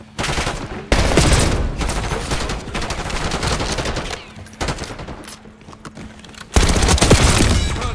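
Loud automatic gunfire in a Black Ops 6 multiplayer match, with long rapid bursts of shooting broken by short pauses as the firing spins between targets.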